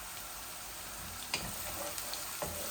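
Garlic and onion sizzle in hot oil alongside pabda fish, a steady close frying hiss with a few sharp utensil clinks and stirring knocks.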